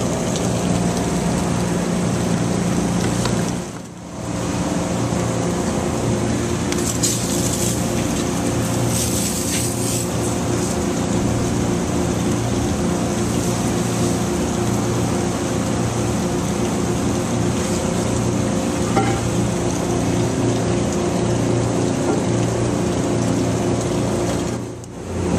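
A pump-up sprayer misting Hydroclean Booster into a restaurant grease trap in Mexia, Texas, a loud, steady hissing spray that runs almost without a break, briefly dropping out twice.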